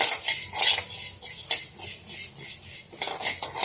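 Sprouted millets being dry-roasted in a pan, with repeated scraping and stirring of the grains against the metal, a close rustling clatter that comes in irregular bursts.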